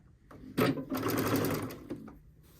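Sewing machine fitted with a denim needle stitching string quilt sashing, a short close burst of rapid mechanical stitching that starts and stops, with no talk.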